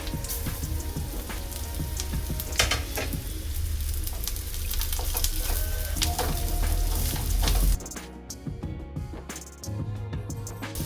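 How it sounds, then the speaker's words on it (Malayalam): Onion and carrot sautéing in a pan for egg noodles, a loud, steady sizzle with stirring scrapes that cuts off sharply near the end and leaves a quieter, thinner frying hiss. "അപ്പോൾ ഓണിയൻ ഒന്ന് സോട്ടായി വരുമ്പോൾ നമുക്ക് കുറച്ച് ക്യാരറ്റ് ആഡ് ചെയ്യാം."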